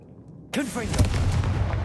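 Confringo fire spell in the video game Hogwarts Legacy striking with a sudden booming burst after near silence, followed by crackling, sizzling fiery tail and sweeping tones.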